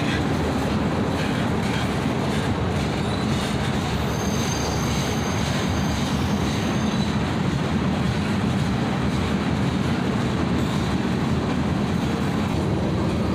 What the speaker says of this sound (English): the end of the train goes by